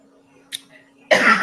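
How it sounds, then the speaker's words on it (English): A brief faint throaty sound followed by a single harsh cough, close and sudden after near silence. "I had a burp and a cough."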